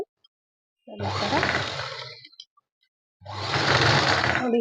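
A sewing machine runs in two bursts while stitching a hair band, the motor whirring steadily for about a second and a half, pausing, then starting again, loud and close with no talk.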